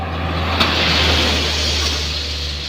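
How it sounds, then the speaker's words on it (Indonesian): An Isuzu Giga truck speeds past on a road near the Kedabuan climb, a steady broad rushing roar that swells and fades slightly over a few seconds, with no talk. "Terus ini dia truk Isuzu Giga yang begitu kencang."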